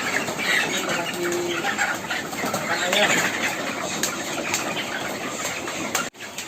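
Chickens clucking inside a poultry coop on a farm of about a thousand birds, a steady busy din of many hens with scattered wing flaps, continuous and fairly loud, with a voice speaking over it.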